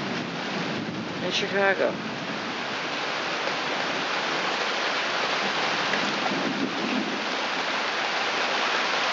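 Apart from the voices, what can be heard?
pouring rain on a deck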